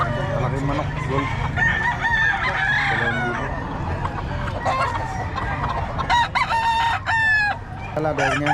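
Several roosters crow with long, wavering calls over a noisy background of chatter and clucking at a market, with more crowing bursting in toward the end.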